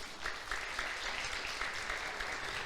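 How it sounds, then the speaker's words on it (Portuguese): A church congregation applauds during a sermon, a steady, moderately loud wash of many hands clapping together, with no voices standing out. "dá uma glória a Deus, aplaude o Senhor"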